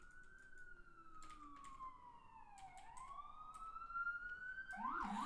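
An ambulance siren wails as a sound effect, its tone sliding slowly down and then back up, with a rising pitched whoop near the end and clicking noise scattered through it.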